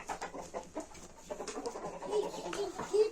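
Chicks and chickens at a small poultry farm peep and cluck in a steady run of short calls, close by and moderately loud, with no talk over them.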